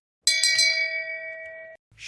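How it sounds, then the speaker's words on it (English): A shame bell is struck on a podcast set: one or two bright rings that hang and fade for over a second, followed by a short rustle. "You gotta ring the bell"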